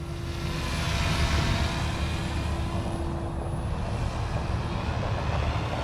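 A small model helicopter drones steadily overhead, a constant buzzing whine at moderate distance with no speech.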